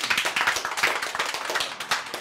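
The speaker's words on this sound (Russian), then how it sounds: "Аплодисменты!" A small audience claps in brisk, distinct beats for a couple of seconds at a business show's year-end awards, the individual hand claps close and clearly separated rather than blending into a roar.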